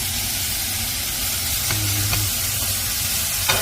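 Meat curry simmering in a pot over low heat gives a steady close sizzle and bubbling hiss, with a few faint clinks of stirring, no talking.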